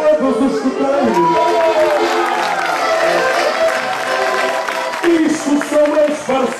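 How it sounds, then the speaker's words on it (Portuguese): At an outdoor scouting festival opening the scout year, a crowd applauds and cheers for the scouts, clapping and whoops mixed under a loud amplified voice and music. "Peço uma salva de palmas aqui para todos os escuteiros."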